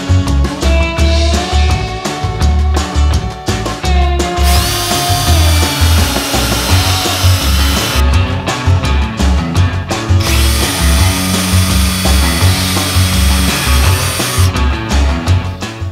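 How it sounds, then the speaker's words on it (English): Loud power drilling into oak with a Forstner bit, the motor's whir and bit grinding in bursts with short pauses between holes. "we're gonna drill some holes in this Forstner bit to relieve for the washer"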